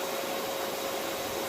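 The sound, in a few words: robot vacuum cleaner running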